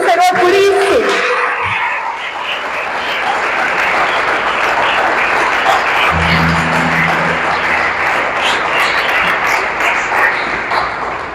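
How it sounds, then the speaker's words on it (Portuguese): A church congregation applauds after a sermon line, with broad sustained clapping and crowd noise filling the room. A brief voice comes at the start, and a low musical tone, likely an organ or keyboard, enters partway through under the clapping. "Você pode aplaudir o Senhor por isso?"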